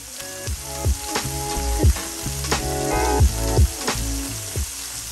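Burger patties topped with American cheese sizzle on a hot griddle, a loud, steady frying hiss punctuated by scraping and clinking from a spatula, with no voices.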